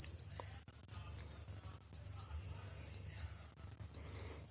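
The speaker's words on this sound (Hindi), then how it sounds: "1 मिनट तक पूरा अलार्म बजता है।" A V2A digital sports watch alarm rings in loud, repeated bursts of paired high-pitched beeps, about one group per second, over a low background hum.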